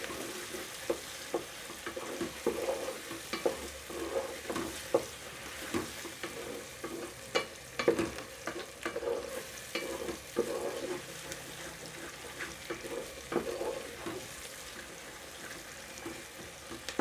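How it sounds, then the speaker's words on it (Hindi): Onions frying in a pan for chicken do pyaza, with a close, steady sizzle and frequent scraping stirs throughout, and no talking. "प्याज को ज़्यादा भूनना नहीं है"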